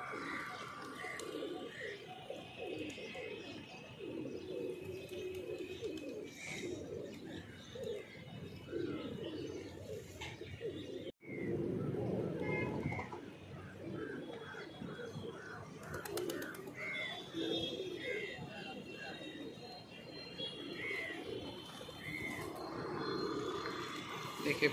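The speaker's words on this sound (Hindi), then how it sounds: "देखिए कितने कबूतर उड़ रहे हैं" A flock of pigeons coos and calls continuously at moderate distance, with soft chirps and scattered wing flutters layered over a steady outdoor background.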